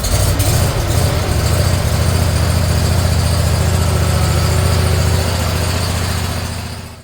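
A small Kohler twin-cylinder engine, with a thrown rod and a hole in the block, idles loudly and steadily with a low, even throbbing chug, close by, then cuts off at the end.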